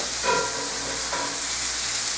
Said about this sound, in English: You're just trying to caramelize them on one side a little bit.